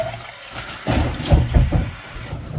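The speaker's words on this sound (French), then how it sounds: "Waouh, on voit le robinet. Donc on remplit ça comme ça." Tap water running into a dog's water container, a short gushing fill of about a second and a half that swells and churns, with quieter hiss before and after.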